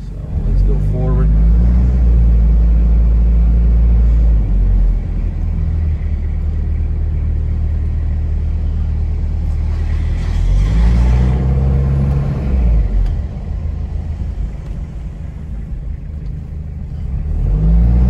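A Toyota Land Cruiser LJ78 turbo diesel pulls forward on the road, its loud low engine rumble rising and falling through gear changes for most of the stretch, with a voice talking over it.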